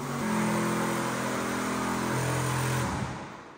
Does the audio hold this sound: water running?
no